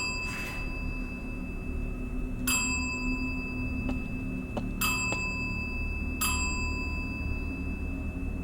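Small bell struck several times during a ghost hunt, four bright dings spaced a couple of seconds apart, each ringing briefly over a low steady background hum.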